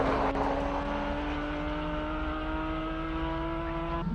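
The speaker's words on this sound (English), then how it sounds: "Wow, that Porsche sounds incredible." A Porsche 997 GT3 Cup race car's engine pulls hard at a hillclimb, its steady high-pitched tone rising evenly under a bright mechanical roar that stays loud and close throughout.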